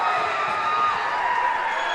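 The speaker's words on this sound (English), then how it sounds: "This crowd is absolutely rampant." A high school ice hockey crowd roars in a sustained, even wash of cheering and shouting after a Fairfield goal, filling the rink without letup.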